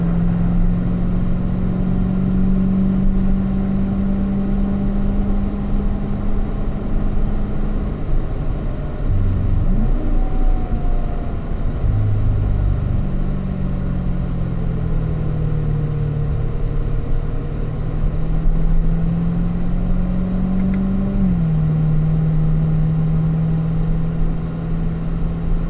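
A race car on a cool-down lap gives a steady engine drone from inside the car, its pitch rising and falling gently with small shifts as it eases through corners, continuous and fairly loud with no talk.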